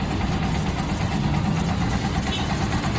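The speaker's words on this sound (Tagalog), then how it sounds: "Maandar siya guys." A Honda TMX Supremo 150 motorcycle fitted with a TMX 155 carburetor runs steadily at idle, a loud, close, continuous engine rumble with no voices over it.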